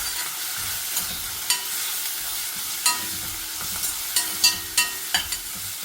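Small pieces of ginger and garlic frying in very hot oil for a green peas palak curry, a steady close sizzle with occasional scraping stirs and light clicks of a utensil, no talking.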